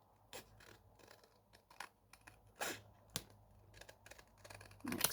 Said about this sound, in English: I'm just going to cut off this bit with my scissors